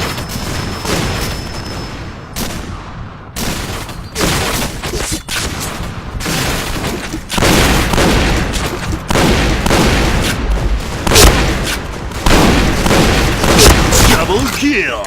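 Rapid gunfire and heavy grenade blasts from the Point Blank shooter game on a burning hall map in shotgun mode, dense and loud throughout, with short gaps between bursts and game voice callouts.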